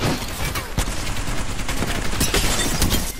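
Rapid bursts of video game gunfire crackle almost nonstop, with several sharper shots standing out over a dense, loud wall of automatic fire.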